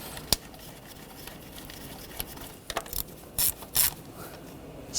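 A ratchet clicks in short bursts while bolts are tightened down on a Ford Escape 2.0L four-cylinder valve cover, with a few sharp close metallic clicks and ticks over quiet background.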